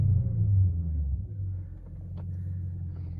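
A 2000 BMW 540i V8 engine rumbles at idle, swelling briefly with a rev then settling into a steady low drone nearby.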